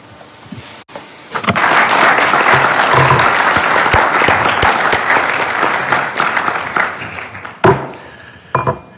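Applause in a UN committee chamber as Morocco is elected by acclamation to chair the Peacebuilding Commission: a sustained roll of many hands clapping that swells after a brief pause, then fades into scattered claps and a few sounds at the end.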